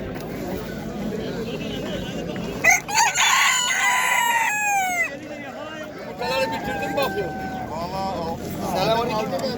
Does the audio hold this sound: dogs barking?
no